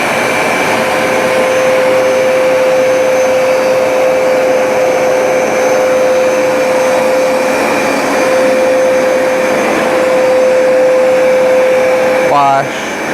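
A Hoover SmartWash carpet cleaner runs loud and close with a constant motor roar and a steady whine as it cycles between washing and drying, ending with a few quick beeps.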